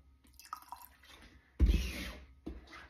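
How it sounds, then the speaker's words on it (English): Distilled water poured into a cleaver herb tincture, a brief close splashing burst in the middle followed by a shorter splash near the end, with quiet room sound around it. "And now I'm just gonna add a little bit of water,"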